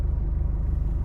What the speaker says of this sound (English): then start the engine